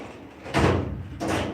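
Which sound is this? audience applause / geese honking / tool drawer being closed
tool drawer being closed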